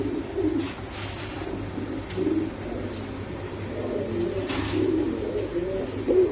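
A male pigeon coos in a low, rolling rhythm, repeating steadily at close range against a faint background hum, with no talking.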